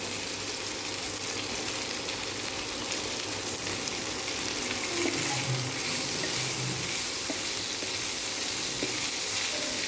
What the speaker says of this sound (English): Now I am adding this pasta, and it has to be fried it well.